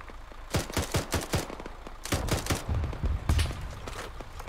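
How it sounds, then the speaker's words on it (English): Gunfire in the military shooter Arma 3 during a jungle assault: several quick bursts of sharp cracks, a rapid string of shots early, then heavier clustered volleys, close and loud with a lingering echo. "We're taking a couple shots."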